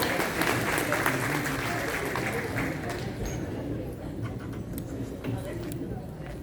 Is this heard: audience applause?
yes